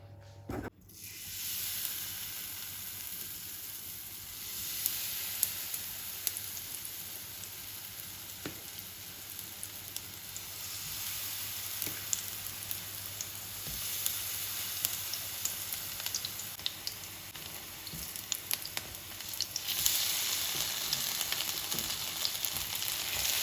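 Hot oil sizzles and crackles steadily as onion rings fry, a close, continuous hiss with scattered pops and occasional soft clinks, no talking.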